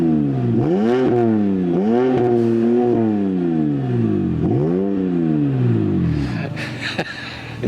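BMW E60 with its exhaust valves opened, the engine revving in repeated rising and falling sweeps, loud and close, with a few clicks near the end.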